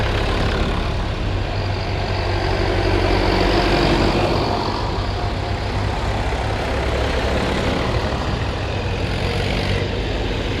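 Vintage tractors on a charity tractor run at Biddle Moor, engines rumbling and idling steadily with a heavy low throb throughout, fairly close and continuous with no talk over them.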